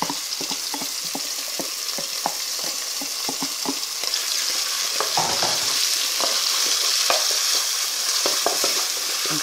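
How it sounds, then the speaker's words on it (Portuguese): Ground beef sautés in a pan with garlic and onion, giving a steady close sizzle broken by frequent scraping stir strokes and small clicks. "Vamos dar uma refogadinha na carne moída"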